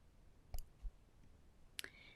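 Thread tails are snipped at a quilting machine with scissors, giving a few faint, sparse clicks and one sharper snip near the end in an otherwise quiet room.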